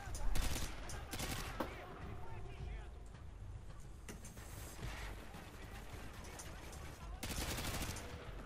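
Enemy gunfire in Call of Duty Modern Warfare 2, bursts of rapid rifle and machine-gun shots, loudest at the start and near the end, amid constant battle noise and someone talking.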